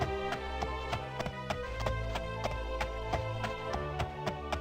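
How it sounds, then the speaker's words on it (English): Horse hooves glitching in The Elder Scrolls: Daggerfall, a rapid mechanical loop of repeated clip-clop strikes at an even, stuttering rhythm, loud and continuous with no talk. "Listen to the sounds of horses glitching."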